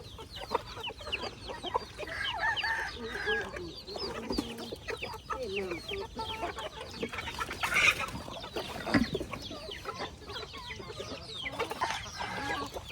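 Chickens cluck and chatter continuously, several birds at once, moderately near, with a busy, uneven rhythm throughout.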